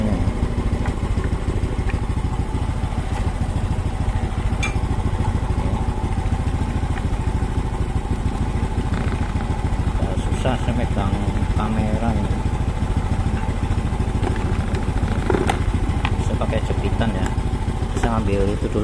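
A carbureted Honda Supra X 125 motorcycle engine idling close by, a continuous steady putter with faint clatter, while someone talks over it.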